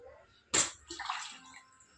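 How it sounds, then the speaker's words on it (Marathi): Water is poured into a dish while a recipe is being cooked: a sudden splash hits first, then a softer trickling slosh that fades out in a quiet room. "जेवढं पाणी पाहिजे तेवढं टाकून घ्यायचं"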